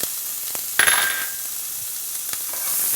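Pancetta and white onions frying in a pan over a medium-high flame, a soft steady sizzle with a sharp metallic clatter early on and a few light scrapes as the pan heats.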